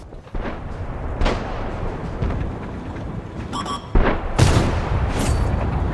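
Tank cannon shots boom in the HMH AMX Modele 58 game, several heavy blasts with rumbling tails, one followed by a clanking ring, loud and close over continuous engine noise.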